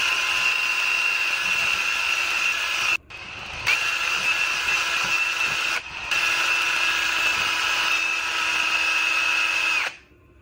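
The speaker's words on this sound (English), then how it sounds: "one of these gallon mixers on a" A gallon paint mixer chucked in a power drill whirs loudly at a steady high pitch in three long runs, separated by brief stops, with no talk.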